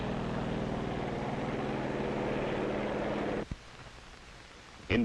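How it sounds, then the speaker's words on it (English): Propeller control planes taking off from an aircraft carrier, a broad steady engine roar with a droning hum that cuts off abruptly partway through, leaving a quieter background before a brief burst at the end. "Also taking off from the carrier are control planes that will guide the radio-controlled drone boats."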